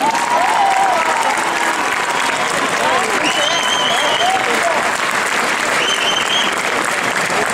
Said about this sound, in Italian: vada infine l'applauso riconoscente di tutti